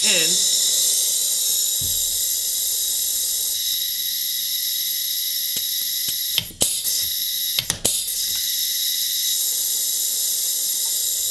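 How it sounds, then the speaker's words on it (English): A pneumatic rivet gun powered by an air compressor sets a rivet, a loud constant hiss of escaping air with two sharp bursts of clunks and snaps near the middle as the trigger is squeezed. "We're going to hook this up to my air compressor, and I'm going to try my best to hold the rivet to the end."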